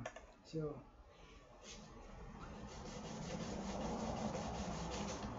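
Sandpaper rubs back and forth across a surface in a steady, soft scratching. It is faint and close, with a brief voice heard near the start.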